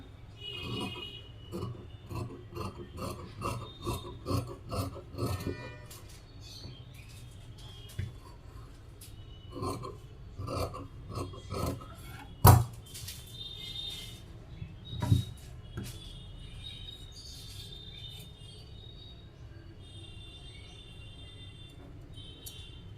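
Scissors snip through blouse fabric in a rapid run of short crisp cuts, then pause and resume with scattered snips, plus a couple of sharp louder clicks, close and fairly quiet.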